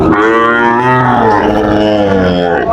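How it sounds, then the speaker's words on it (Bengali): A Sahiwal bull calf lets out a long, loud, drawn-out moo close by, its voice wavering in pitch, with no talking over it. "শাহিওয়াল ষাড় বাচ্চা তিনটি গরুই কালেকশন করছে"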